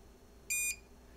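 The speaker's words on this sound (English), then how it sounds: "it gave a good solid beep" A Micsig MDP-701 differential probe calibration tester gives one solid electronic beep after zeroing, a steady high tone lasting about a quarter second over faint background hiss.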